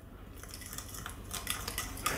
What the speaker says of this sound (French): Alors, je mélange à nouveau.